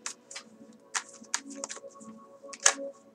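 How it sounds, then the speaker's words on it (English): Tarot cards being shuffled by hand in a quiet room, a string of crisp riffling and soft slapping bursts at an uneven rhythm, close and fairly quiet with no talking. "I think that that's enough shuffling."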